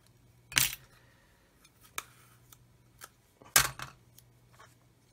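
Tamiya masking tape peeled off a 1/16 RC Sherman tank model kit, heard as two sharp, crackling rips a few seconds apart, with a few faint ticks and clicks between them in a quiet room.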